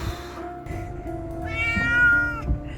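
A cat meows during a house move, giving one drawn-out rising and falling meow, close and clear, with background room noise and a steady faint hum.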